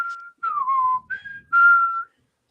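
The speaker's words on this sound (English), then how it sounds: "That was a good whistle." A person whistles a short tune of several sliding notes, clear and close with brief pauses between phrases and no talking.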